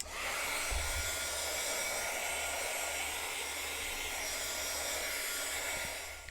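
A hair dryer blows continuously at close range, drying golden matte medium on a canvas with a steady, loud whooshing hum and no talk.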